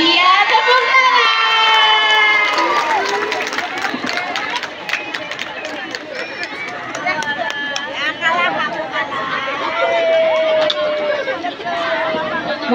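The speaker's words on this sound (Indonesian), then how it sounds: "Iya, tepuk tangan." Primary school children at an environmental ambassador contest clap and cheer loudly, shrill shouts and excited chatter rising over steady applause, with lively crowd noise throughout.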